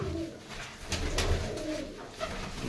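Female pigeons coo softly in low, throaty bursts, with a few louder rolling calls against a steady background murmur.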